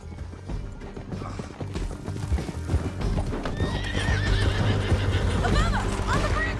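In Red Dead Redemption 2, horse hooves clop in a quick galloping rhythm while horses neigh loudly and repeatedly, with voices talking over the riding.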